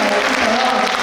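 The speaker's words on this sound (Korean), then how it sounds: "다시 한번 교장 선생님으로 취임하는 전유양 교장 선생님께 큰 박수" Brief burst of applause for a new school principal at a school entrance and inauguration ceremony, a dense steady clapping from a gathered audience that lasts about a second.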